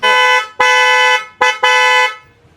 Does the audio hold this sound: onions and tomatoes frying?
no